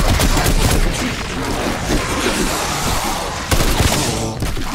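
Gunfire in a zombie shooter game, a dense loud barrage of overlapping shots with booming impacts, continuous and close, with a brief lull and renewed bursts near the end.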